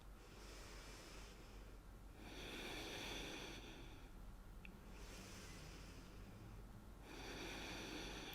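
Slow, deep breaths drawn during a yoga pose, about three long cycles of airy inhales and exhales in a steady rhythm, close and fairly soft with no talking.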